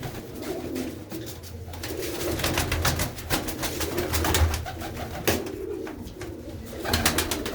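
Pigeons in a loft keep up layered, throaty cooing from several birds at once, near and fairly loud, mixed with occasional wing flaps and light knocks.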